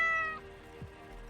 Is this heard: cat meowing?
yes